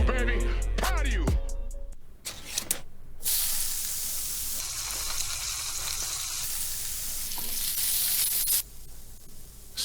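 Spam frying in a hot pan in a commercial, a loud, steady sizzle that runs almost the whole time after a brief burst of music at the start.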